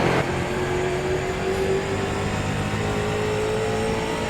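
Street stock race car engine at Martinsville in iRacing, a steady close droning roar with a rising pitched whine as the car accelerates, continuous and alone with no talk.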